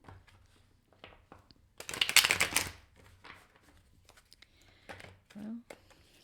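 A card is drawn from a tarot deck during a love reading: a short, crisp burst of riffling, shuffling paper near the middle, with softer card handling and faint voice sounds around it.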